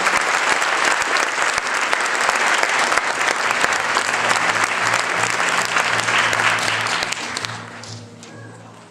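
Loud, dense applause from an audience at a middle school band concert rolls on for about seven seconds and then fades quickly, leaving a low hum.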